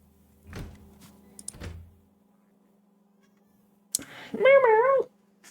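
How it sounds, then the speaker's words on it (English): A pet cat meows for attention indoors: two short soft calls near the start, then after a pause a louder, drawn-out wavering meow close by, with no talk over it. "my cat does not want to be petted, but she wants my attention."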